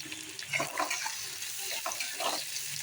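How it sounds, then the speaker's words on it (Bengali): Chopped onion hitting hot oil in a pan for chicken kosha, a broad steady hiss with a few brighter crackling bursts, close and fairly quiet, no voices. "তেল গরম হয়ে গিয়েছে, দিয়ে দেবো পেঁয়াজ কুচি।"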